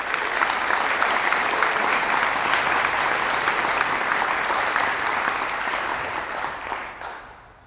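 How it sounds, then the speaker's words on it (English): Sustained audience applause fills a hall at a public evening event, dense and steady throughout before tapering off near the end. "Please join me in giving them a round of applause."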